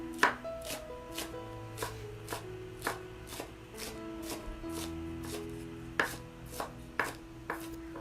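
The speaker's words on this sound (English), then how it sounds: "Finely chop some spring onion." Knife chopping spring onion finely on a board, a steady run of about a dozen crisp, evenly spaced cuts close by, with soft background music and no talking.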